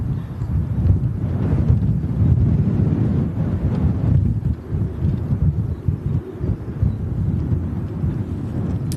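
Strong wind buffets a microphone at an outdoor plane spotting spot, a loud, continuous low rumble with gusty surges and dips throughout.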